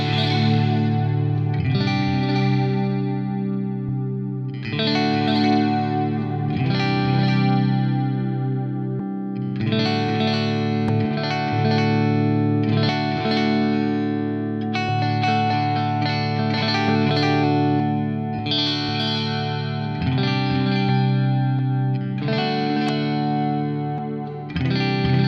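Electric guitar through a delay effect on a Fractal AX8, its repeats shaped by modulation curves, playing loud sustained chords and phrases for about 25 seconds, with chorus-like wavering echoes and distortion.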